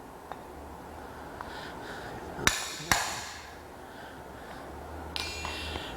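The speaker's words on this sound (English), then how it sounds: "heat the tenon and peen it over to form a rivet head to hold that in place" A ball peen hammer peening a heated iron tenon over into a rivet head on a blacksmith's garden gate flower, two sharp ringing blows near the middle and a lighter strike near the end over faint shop ambience.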